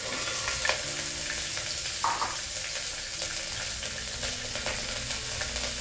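Broccoli sizzles in hot coconut oil in a pressure cooker, a steady loud frying hiss with a spoon stirring and scraping against the metal at intervals, close up and without talk.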